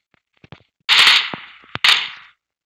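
Gunfire in the mobile battle royale game PUBG Mobile: a few faint clicks, then two loud, sharp bursts of shots about a second apart.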